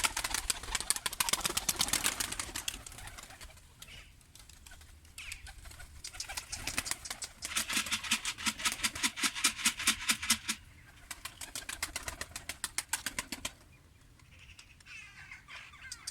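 Bursts of rapid wing flapping come and go among tumbler pigeons, with soft calls and rustling in between, fairly close and alternating with quieter stretches.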